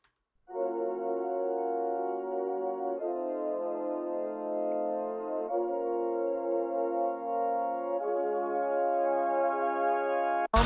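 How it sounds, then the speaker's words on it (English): A reedy wind-up pipe organ plays sustained chords that shift every few seconds, steady and fairly loud, ending abruptly. "wind-up pipe organ playing that."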